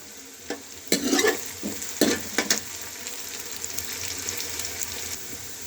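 Onions for chana dal frying in a pan, a spoon scraping and stirring in several loud strokes early on over a continuous sizzle that carries on steadily afterward.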